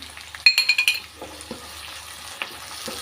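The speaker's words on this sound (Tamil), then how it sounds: "உப்பு சேர்த்துட்டு நல்லா வதக்கி விட்டுக்கலாம்" Onions sauté in a pan with salt as the base for a green field-bean tamarind curry. A burst of quick scraping stir strokes comes near the start, then a soft, steady sizzle with an occasional scrape.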